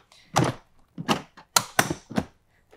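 A filter slides into the canister of a Miele Blizzard CX1 Pure Suction bagless vacuum, giving five close, distinct plastic thunks and knocks at uneven intervals with no speech.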